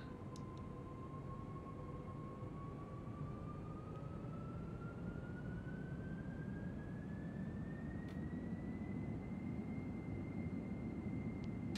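Boeing 747-400 jet engines at takeoff power in X-Plane 11 roar as a steady broadband rumble, with a whine climbing slowly in pitch through the roll.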